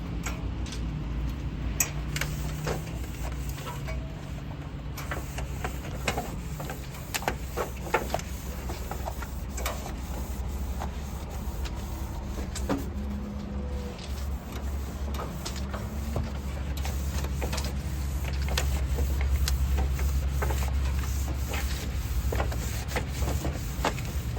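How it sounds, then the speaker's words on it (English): A normal towel wiping and scrubbing a building's soffit and the outside face of a gutter, giving soft irregular rubbing and faint tapping strokes over a steady low background hum, with no talking. "that's kind of washing it with a normal towel"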